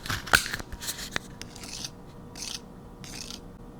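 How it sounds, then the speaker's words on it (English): A spoon cracks the caramelized sugar top of a honeynut squash crème brûlée: one sharp close crack, a few smaller crackles, then soft intermittent scraping and crunching. "It cracked like a creme brulee."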